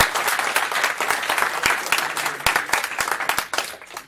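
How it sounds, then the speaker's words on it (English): An audience applauds a speaker at a software talk on an open-source electronics design package, a steady dense clapping that fades near the end, with no voices over it. "let's hear a round of applause for Lukas."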